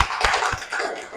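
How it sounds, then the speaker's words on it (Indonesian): Classroom students clap for a presenting student group, a short burst of a few quick, close hand claps from a small group. "Berikan tepuk tangan untuk kelompok 5."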